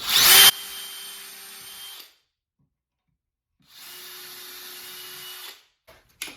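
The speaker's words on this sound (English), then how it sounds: "what I like to do is start with the drill bit first." A sharp burst, then a power drill drilling wood in two steady runs separated by a silent gap, ending with a couple of small clicks, while installing concealed hinges.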